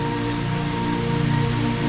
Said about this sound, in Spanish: Tiene otra lluvia ahí.